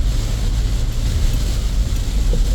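Strong typhoon wind roaring in a steady, heavy rumble with a constant low, dense rush and no pauses, loud and close throughout.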